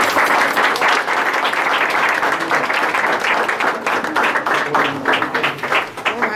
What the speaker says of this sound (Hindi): ताली बजाए बेटे, खड़े हो जाओ सारे।